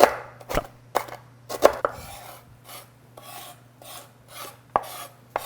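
A knife chops bacon into small pieces on a cutting board for Flammkuchen, a series of sharp, close thuds in an irregular rhythm with some scraping between strikes.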